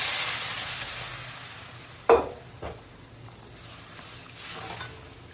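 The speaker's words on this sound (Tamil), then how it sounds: "இப்போ மசாலாலாம் நல்லா வதங்கி வெங்காயம்லாம் நல்லா வதங்கிடுச்சிங்க" Steady sizzling of onions and masala sautéing in a pan for fish curry, with a couple of sharp clinks and scrapes from stirring partway through.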